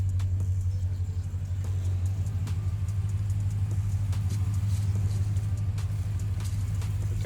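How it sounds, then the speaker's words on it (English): A recovery vehicle on a bush track in the Victorian High Country's Blue Rag Range, its engine giving a steady, loud, low rumble that carries on without a break. "Recovery vehicle's here, baby."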